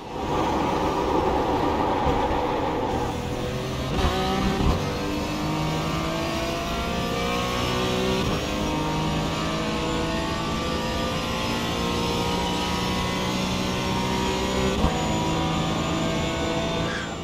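A GT4 race car on a flat-out hot lap of the Nürburgring in the iRacing sim, its engine droning loud and steady with rising and falling pitch through gear changes and a few brief shifts.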